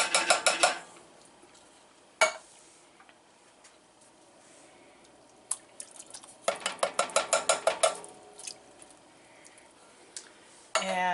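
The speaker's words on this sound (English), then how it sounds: "And then I'm going to add my 2 cans" Two cans of diced tomatoes emptied into a soup pot for lasagna soup: bursts of rapid metallic tapping as a spoon scrapes and knocks the cans against the pot rim, separated by quieter pauses.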